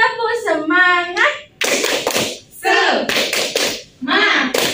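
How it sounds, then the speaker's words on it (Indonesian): Rhythmic hand clapping in a classroom, sharp bursts in a patterned beat, interleaved with voices chanting and calling out together in a group cheer. "alangkah baiknya kita bertepuk tangan dulu agar kita lebih semangat"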